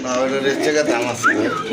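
Pigeons at a bird market, including a Baghdadi pair, coo close by in short rising calls under a voice that talks over them.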